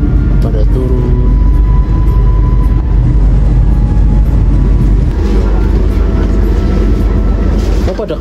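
The KA Jaka Tingkir economy train pulling into platform 2 at Lempuyangan station, a loud continuous rumble and hum of the rolling train with a faint squeal, heard close by under the din of the station.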